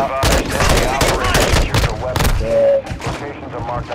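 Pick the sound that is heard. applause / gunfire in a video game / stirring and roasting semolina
gunfire in a video game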